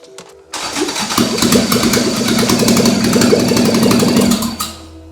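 A Toyota AE86 with a 4AGE 20V Black Top engine cranks briefly, then catches and roars into a loud, rough, rapid idle before cutting off near the end.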